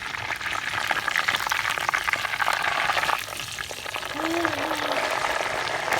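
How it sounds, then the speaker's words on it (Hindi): Cauliflower pieces frying in cooking oil for an aloo gobi dish, a steady, moderate sizzle and bubbling crackle that holds evenly throughout with a faint brief tonal sound near the end. "गोभी को हमने कुकिंग ऑयल में ऐड कर दिया है। अब 4 से 5 मिनट एक साइड फ्राई करेंगे"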